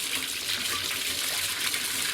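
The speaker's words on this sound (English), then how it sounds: "I just come over here and blast the sides of the radial flow filter and the pipe work that goes into the biofilter." A hose blasts water against the sides and pipework of an aquaponic radial flow filter, producing a continuous close splashing gush that stays steady and loud throughout with no pauses.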